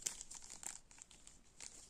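A small plastic bag crinkles faintly and close up as a bundle of embroidery thread is slipped inside, a run of soft, irregular rustles.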